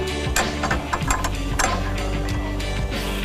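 A pawl lever ratchet is fitted into a bracket on a Spalding inground 44-inch polycarbonate basketball system, giving a continuous mechanical clatter of rapid clicks and metallic scraping up close.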